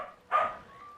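One short, fairly loud bark from a pet dog named Leto rings out nearby in an indoor room, fading into a quieter hum afterward.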